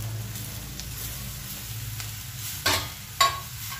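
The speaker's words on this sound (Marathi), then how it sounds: "आता यामध्ये आपण मोकळी केलेली बांबूची भाजी घालूयात" Bamboo shoots stir-fried with red chili powder in a pan, giving a low steady sizzle with two sharper clatters of ingredients and a utensil near the end.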